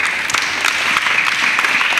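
A church congregation claps loudly, a dense, steady burst of applause filling the room from start to finish.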